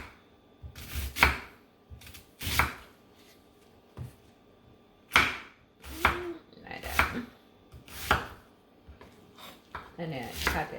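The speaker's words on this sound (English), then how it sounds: "Just slice thinly." An onion is sliced thinly with a knife on a cutting board for a Thai chicken and basil stir-fry, a series of separate close thuds and board knocks spaced irregularly, with faint talk between some of the cuts.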